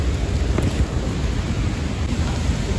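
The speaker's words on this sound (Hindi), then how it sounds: "और यहाँ पे बारिश लगी है" Heavy rain pours during a flood in Kullu Manali, a dense, continuous roar with wind buffeting the microphone and a low rumble underneath, close and loud throughout with no voices.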